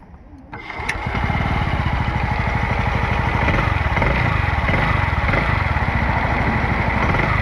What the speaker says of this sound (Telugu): So, let's listen the exhaust note.